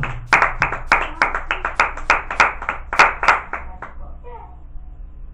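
A church congregation claps together in a quick, rhythmic burst of about a dozen strong claps, then the clapping thins out and fades, with a brief voice near the end.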